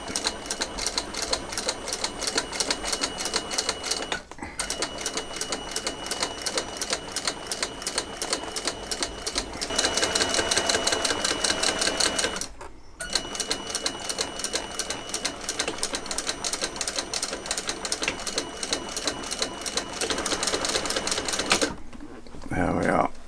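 A sewing machine double-seams thick, tapered, skived leather on a bag, its rapid rhythmic stitching clatter running in several long bursts with brief pauses, while a voice talks over it.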